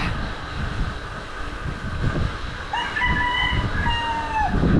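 Rooster crowing outdoors on a windy day, a drawn-out cock-a-doodle-doo rising over steady wind noise and a distant aircraft drone in the second half.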